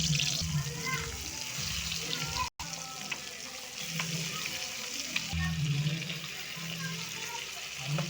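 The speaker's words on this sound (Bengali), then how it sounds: "এখন মাছগুলো ভালো করে ভেজে নেব।" Fish frying in hot mustard oil in a wok, a steady, dense sizzle and crackle running throughout with occasional spatters and light clinks, brief gap midway, low voices murmuring faintly underneath.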